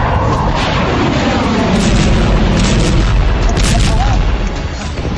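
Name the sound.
explosion sound effect for bombing news report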